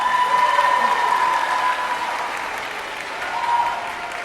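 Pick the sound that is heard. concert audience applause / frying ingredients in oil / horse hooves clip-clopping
concert audience applause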